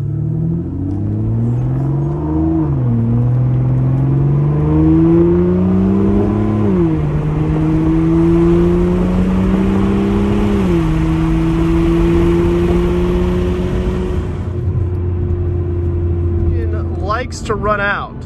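An Aston Martin Vanquish engine pulls through the gears while driving, a loud rising drone that climbs, drops at each shift and climbs again, then settles to a steady cruise before fading.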